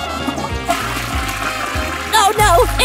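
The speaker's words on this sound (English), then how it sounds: "I'm gonna flush it down the toilet where it belongs." A cartoonish toilet flush in a children's doctor game gives a rushing, trickling water swirl over bouncy background music, ending in a bright chime-like flourish.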